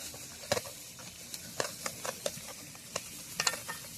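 Chicken meat stirs and fries in a pan with a soft sizzle under a scatter of sharp scraping and clattering strokes, close by and irregular, with no talking.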